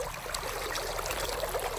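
Black River water ripples steadily past a log at a campground, a soft continuous trickling wash heard up close, unbroken and without voices.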